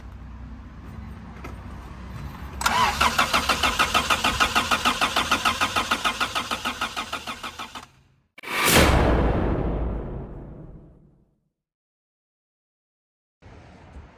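An abandoned 30-year-old turbo Honda engine cranks with a steady rhythmic chug, then fires up with a loud rising roar that fades off to silence, close by.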